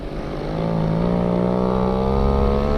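A Go-Ped scooter's small engine, revived after sitting unused for over fifteen years, runs steadily at low speed, a loud, close buzzing drone whose pitch slowly climbs as it holds around walking pace.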